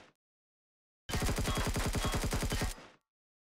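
Rapid automatic weapon fire in the space survival game Empyrion Galactic Survival, a single loud sustained burst of evenly spaced shots lasting about a second and a half, followed by a short fading tail.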